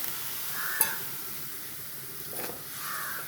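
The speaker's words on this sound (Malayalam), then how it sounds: "കുടംപുളിയുടെ ചാറിട്ട് അങ്ങോട്ട് ഇളക്കി" Kudampuli (Malabar tamarind) juice is stirred into river fish frying in a pan, giving a faint, continuous sizzle with a couple of soft scraping stirs and a small clink near the start.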